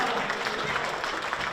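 Stadium crowd applauding a substituted Primorje player during a Slovenian second-league football match against Krka, steady dense clapping throughout with a commentator's voice over it.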